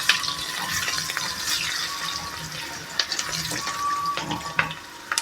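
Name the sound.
turmeric added to sizzling tempering oil for khaman dhokla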